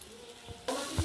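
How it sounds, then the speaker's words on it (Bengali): Ground spices with salt and chilli powder being stir-fried for doi katla, a soft hiss that jumps to a loud, steady sizzle, with stirring scrapes in the pan. "সবগুলো কষিয়ে নিচ্ছি"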